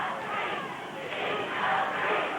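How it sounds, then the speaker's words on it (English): A wrestling arena crowd chants at the Sheik during an Abdullah Ali Hassan versus Chris Adams match, a loud, dense roar of many voices swelling and falling, with commentary over it. "They're chanting out there, Sheik's a freak."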